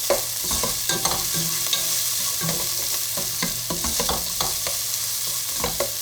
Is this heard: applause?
no